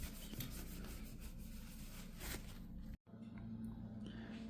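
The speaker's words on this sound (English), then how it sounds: "I'm just going to clean it with a little acetone" A cloth wipes acetone over a metal surface to strip sticker residue and grease, giving a close, steady rubbing swish that breaks off briefly near the end before resuming, with no voices.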